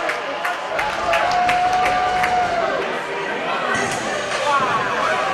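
A college hockey crowd at a CSU–CU game roars and cheers after a big body check, a sustained dense swell in an arena, with a commentator talking over it and a faint whistle.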